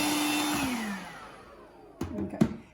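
Small handheld vacuum cleaning a Fresh Air Cube air purifier, a steady whine that fades down as the motor winds off, followed by two short bursts as the nozzle knocks against the unit, close and fairly loud.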